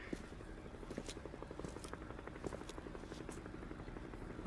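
Helicopter noise in the Dead Rising video game, a steady fast rotor chop throbbing continuously at low, faint volume.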